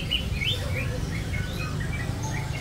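Many caged birds chirp and tweet at the Pramuka bird market in Jakarta, thin high calls scattered over a steady low rumble of market and street noise.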